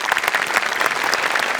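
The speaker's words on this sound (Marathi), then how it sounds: "जोरदार टाळ्या" A studio audience at a Marathi comedy show claps in a short, dense burst of applause that holds steady and loud, with no voices over it.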